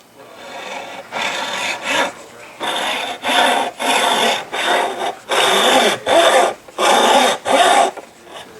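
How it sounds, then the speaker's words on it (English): A hacksaw cuts through a SUP paddle shaft in a series of loud, close, rhythmic rasping strokes. Each burst of sawing lasts about half a second, separated by brief pauses as the paddle is rotated. "So I'll take the hacksaw. You're going to want to rotate the paddle around as you saw."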